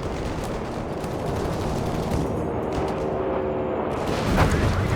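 Artillery bombardment in the strategy game Company of Heroes 3, a dense continuous rumble of blasts and gunfire with a heavier impact near the end.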